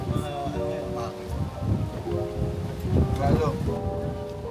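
Strong wind buffets a private tour boat on choppy water off El Nido, Palawan, a loud continuous roar with engine rumble beneath.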